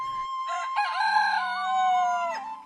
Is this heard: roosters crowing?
yes